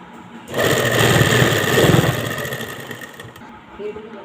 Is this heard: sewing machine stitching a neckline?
yes